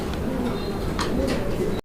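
Soft pigeon cooing rises and falls in a few low, breathy phrases over a steady background murmur, ending with a brief cut.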